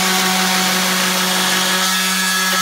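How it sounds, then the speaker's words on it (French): A random orbital sander runs continuously close by, a steady motor whine with a sustained hum and broadband abrasive hiss, unbroken for the whole stretch. "C'est une ponceuse excentrique, c'est ça?"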